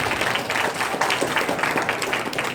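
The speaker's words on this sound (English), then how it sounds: "give yourselves a big round of applause" Audience applause at an evening awards-style event, a dense, steady wash of many hands clapping throughout with no voices standing out.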